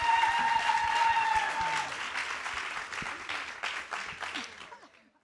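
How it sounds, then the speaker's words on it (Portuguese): Audience at a book fair talk applauding to welcome a guest author, a brisk wash of clapping that peaks early and gradually fades out over a few seconds. "Então, vou pedir uma salva de palmas para a Natália."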